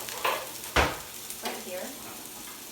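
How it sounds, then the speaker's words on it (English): Vietnamese pancake batter sizzles and fries in a hot pan as it is swirled around, giving a steady close hiss with a few sharper spatters, while a voice briefly speaks over it. "Stir it around to get the batter covered all over the entire pan."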